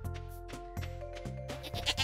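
A farm sheep in the video game Stardew Valley bleats repeatedly in quick, wavering calls over steady background game music.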